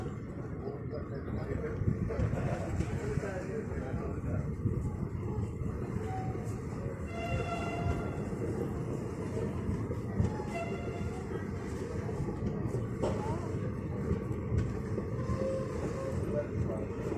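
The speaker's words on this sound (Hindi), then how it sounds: "यहाँ से आप एंजॉय कीजिए हमारी ट्रेन का डिपार्चर" The 04042 Mussoorie Express, travelling from Haridwar to Delhi, rumbles along in a continuous low roar of wheels and carriage noise heard from on board, steady throughout with faint higher squeals and clatter mixed in.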